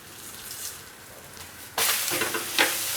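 A mung dal uttapam sizzles steadily in a hot pan. The gentle frying crackle jumps sharply louder partway through into a bright, hissing sizzle close by.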